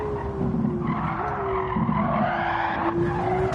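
Car braking hard in Gran Turismo 7, a steady high tire squeal and skid held over a running engine drone, loud and continuous with no talk.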